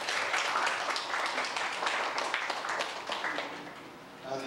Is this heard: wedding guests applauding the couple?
yes